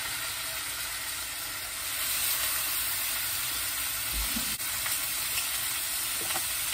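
Onions sauté in a pan for chicken curry: a steady broad sizzle that swells slightly after a couple of seconds and continues alone, with a few faint clinks and stirring touches.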